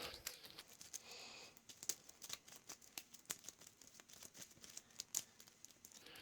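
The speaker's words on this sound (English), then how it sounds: "I'll speed the shuffling up on the vid" Cards for the Mage Knight board game being shuffled by hand, a steady run of soft papery riffles and flicks, quiet and close, with no talking.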